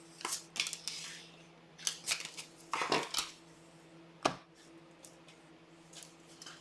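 Tarot cards are shuffled and handled close by in quiet, with bursts of crisp riffling and soft slaps coming in irregular clusters and a sharper snap near the end.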